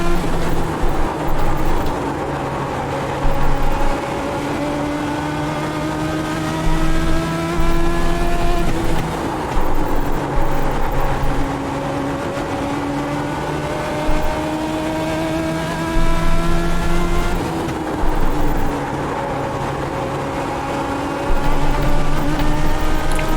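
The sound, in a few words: race car engine revving in iRacing video game, Legends '34 Coupe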